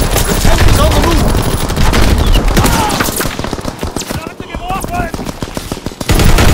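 An MG15 machine gun firing in Call of Duty WW2, loud rapid rattling bursts with brief pauses, battle noise and shouted game voices in the background.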